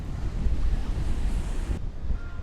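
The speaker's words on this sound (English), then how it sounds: "That is how windy it is." Strong wind roars and buffets the microphone, a loud, continuous rushing noise with no voices.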